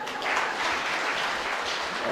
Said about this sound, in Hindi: इनके लिए ताली बजाते हैं।